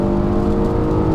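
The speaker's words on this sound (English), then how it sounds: "I'm getting some nice rumble from out back in the TLX as well." A 2018 Acura TLX A-Spec SH-AWD with a V6 gives a steady, deep exhaust rumble under acceleration. The drone is loud and continuous, with no voices over it.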